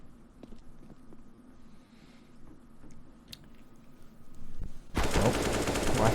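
Rifle fire in a competitive video game match: scattered faint shots over a low game ambience, then a sudden loud, sustained burst of rapid automatic fire for the last second.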